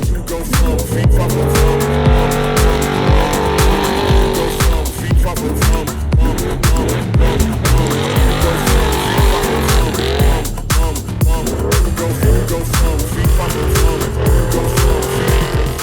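Spec-class racing trucks in a Vegas to Reno off-road race roar continuously at close range, engines revving and shifting with gravelly tire noise and occasional squeals, loud and sustained throughout.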